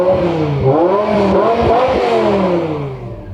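A BMW M5 E60 with its V10 engine revs loud and close, the pitch rising and falling through a sustained throttle blip before easing off at the end.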